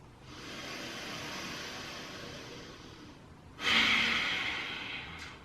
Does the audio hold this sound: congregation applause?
no